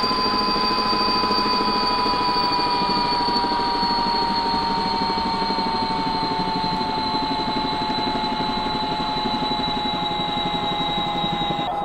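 SA342J Gazelle helicopter engines in the X-Plane 11 flight simulator, a steady loud turbine whine with a high tone and constant rotor drone that holds evenly throughout, slowly sagging in pitch as the engines are shut down.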